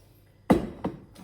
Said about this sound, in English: I'll just scrape the rest out